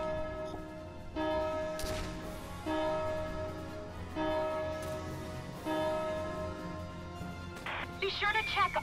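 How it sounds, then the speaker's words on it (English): Church bell ringing in the video game Valkyria Chronicles 4, with repeated tolls about every one and a half seconds ringing over game music and effects. "Ringing the bell."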